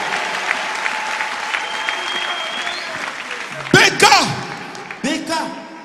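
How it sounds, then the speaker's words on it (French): Church congregation applauding and cheering in acclamation during a worship service, a sustained wash of clapping with a voice speaking over it and a few loud shouted bursts near the end. "Acclamons le Seigneur Jésus."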